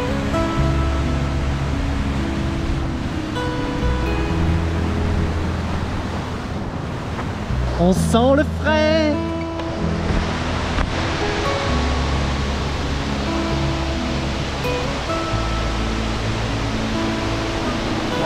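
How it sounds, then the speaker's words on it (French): A waterfall cascade among basalt rock formations in Armenia gives off a steady, dense roar, mixed with wind buffeting the microphone, while a voice speaks briefly partway through. "En avant pour cette cascade."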